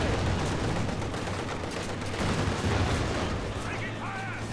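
Tank machine gun fire in Company of Heroes 2 chatters in dense, continuous bursts mixed with heavier battle booms, under a caster's commentary.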